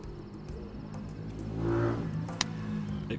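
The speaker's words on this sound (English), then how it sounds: "Excuse the loud motorbike." A loud motorbike passes nearby outdoors, its engine swelling into a rising rev and then fading, with faint insect chirps in the background.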